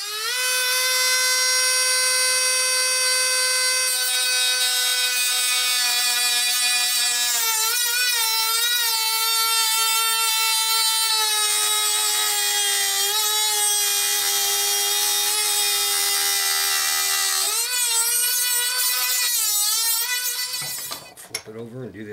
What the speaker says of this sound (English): the Dremel tool has a fresh battery pack, and it has a new reinforced cutoff wheel on it